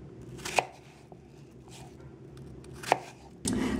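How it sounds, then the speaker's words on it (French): A knife chops apples into cubes on a cutting board, giving a few separate, sharp knocks spaced well apart over a low background hum. "Je réalise ensuite mes pommes caramélisées. Donc pour ça, je détaille en cubes"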